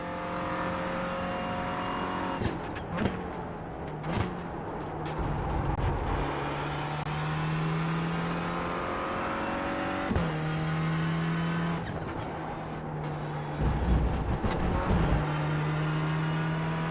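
Renault Clio Cup race car engine lapping Okayama circuit, heard from onboard: a steady loud engine drone with shifting pitch, brief sharp gear-change breaks and rises in revs throughout.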